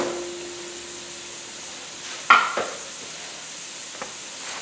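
Chopped onion sweats in a pot for broccoli and celery soup, giving a faint, steady sizzle with one sharp clatter of a utensil and a few light knocks.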